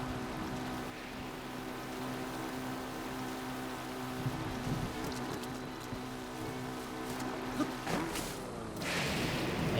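Steady rain falls in Zelda: Breath of the Wild, a constant hiss over droning background tones, with brief swishing movement sounds near the end and no talking.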